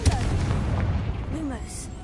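A Confringo blasting spell from Hogwarts Legacy goes off with a heavy boom at the start and a rumbling roll that fades, while voices speak over it.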